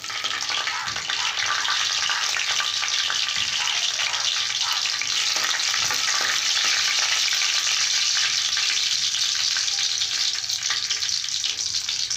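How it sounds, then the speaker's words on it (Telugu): Tempering spices sizzling in oil in a kadai on a stove, a dense continuous crackle and hiss, close and steady throughout. "కడాయి పెట్టుకొని తగినంత ఆయిల్ వేసుకున్నానండి పోపుకి"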